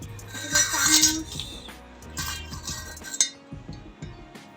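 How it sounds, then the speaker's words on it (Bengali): Small steel toy kitchen pots, pans and spoons clink and clatter together in bright, close metallic taps, busiest early on then sparser, with faint voices in the background. "এটা কড়াই, এটা হাঁড়ি, এটা বাসন, এটা ওয়াসন, এটা চামচ।"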